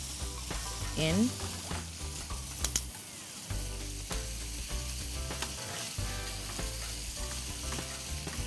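Beef frying in a hot pan for Mongolian beef, a loud continuous sizzle close up, broken by scraping and stirring clatter, with a brief spoken word over it.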